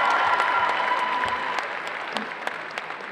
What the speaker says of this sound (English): Give a round of applause for Glinda.